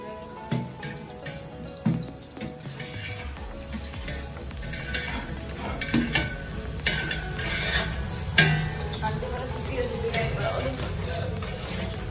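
Sheer korma cooks in a pot on an Eid kitchen stove in Bangalore while a spoon stirs and scrapes against the metal in irregular clinks, with running water and a soft sizzle around it and voices talking.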